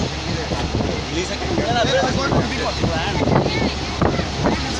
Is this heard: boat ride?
yes